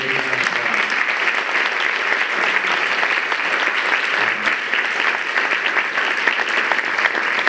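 An audience at a university event claps steadily in a dense, sustained burst of applause that fills the room from start to finish at an even, loud level.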